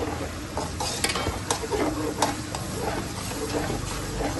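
Ginger garlic paste sizzles and crackles in a hot pan, with steady frying hiss and occasional scraping stirs, fairly quiet.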